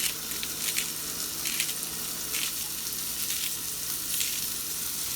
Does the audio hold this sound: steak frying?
yes